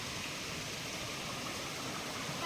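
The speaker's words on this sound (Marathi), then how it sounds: "दुसरा धबधबा आम्हाला भेटला आहे." A second waterfall deep in the jungle gives an even, low rushing roar of water that stays constant and mid-distance throughout, with no one speaking.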